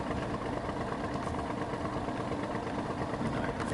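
A truck engine idles steadily in SnowRunner, a continuous low rumble with a constant loud level and no talk over it.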